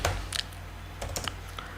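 Someone types code on a computer keyboard, a few quiet clusters of close key taps with short pauses between them over a low background hum.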